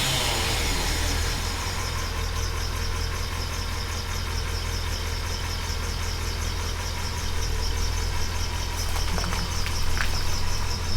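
An American car engine runs on a cold start with a little choke applied, producing a close, steady, slightly rough idle that holds a constant loud rumble throughout.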